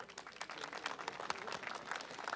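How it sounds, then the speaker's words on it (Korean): Faint, distant audience applause at an outdoor autumn-foliage song festival at Songnisan as the judges are introduced, a steady patter of many hands clapping for a couple of seconds. "박수 부탁드립니다."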